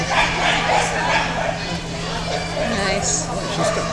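A dog barks and yips during an agility run in a busy, noisy setting, with crowd babble and people talking throughout.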